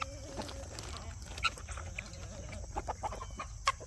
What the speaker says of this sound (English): They were hungry chickies.